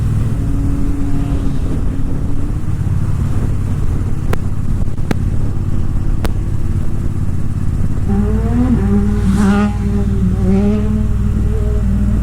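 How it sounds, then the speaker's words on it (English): A Triumph motorcycle, either a Bobber Black or a Street Triple RS, runs on a backroad with a steady, loud engine drone and wind rush, and the pitch rises as it accelerates near the end. "Happy to finally get to ride the motorcycle down to downtown Annapolis."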